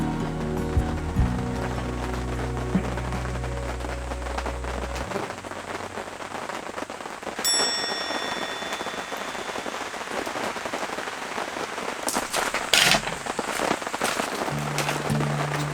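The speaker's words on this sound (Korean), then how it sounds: "비가 또 시원하게 오는구만." Rain falls on a tent during a summer solo camping trip, a steady broadband patter that runs the whole time at moderate level, with a low hum and a few thin tones near the start.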